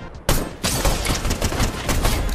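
Gunfire in the Fortnite video game comes as a dense, loud burst of rapid shots that breaks in suddenly after a brief lull and continues in a continuous noisy volley.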